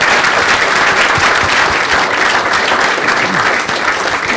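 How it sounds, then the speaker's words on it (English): An audience at a business panel event gives a loud, dense round of applause for the panelists, the clapping holding steady throughout without any speech over it. "I'd like to give our three, I guess we could call panelists, even though it's definitely not the normal panel format, a great round of applause"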